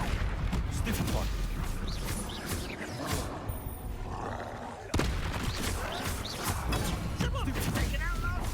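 Spell blasts from Expelliarmus and Confringo crackle and burst in a Hogwarts Legacy duel, dense roaring impacts with a sharp hit near five seconds, under speech and game noise throughout.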